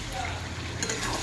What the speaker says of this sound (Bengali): আমার চিকেন কিন্তু প্রায় কষানো শেষ। আর চিকেনে কিন্তু তেল ছাড়তে লেগেছে।